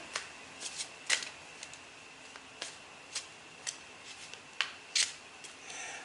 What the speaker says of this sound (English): Let's give the cards another good shuffle, shuffle, shuffle.